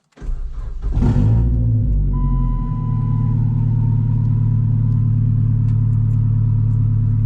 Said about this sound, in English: It's probably gonna be a little noisy because this car is cut out.